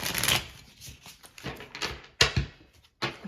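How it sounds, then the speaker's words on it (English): A pocket-size tarot card deck being fan shuffled by hand, giving close, soft riffling bursts and flicks of small cards in uneven clusters with short pauses between them. "I'm still figuring out the sweet spot for it in terms of fan shuffling here."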